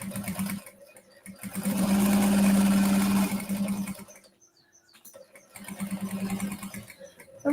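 A sewing machine stitching a faux leather pocket onto a large tote bag, running in bursts with a sharp pause between them, the motor whirring loud and close, and no one speaking.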